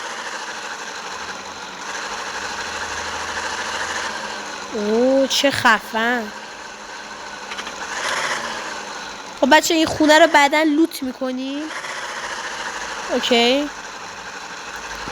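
A car engine idles in a driving video game while the car reverses, a steady mid-pitched hum running beneath someone talking, with brief louder bursts.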